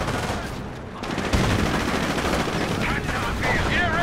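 Sniper rifle fire in the WWII strategy game Company of Heroes, amid a dense, continuous din of battle gunfire and explosions that rises in intensity, loud and sustained throughout.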